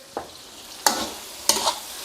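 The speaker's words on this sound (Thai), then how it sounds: "ผัดให้หอมสุกใสก่อนนะครับ" Sliced onion and a red chili being stir-fried in a pan: three short scraping stir strokes over a low, steady sizzle, loud and close with no talk.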